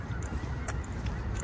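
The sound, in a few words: birds flying toward a reservoir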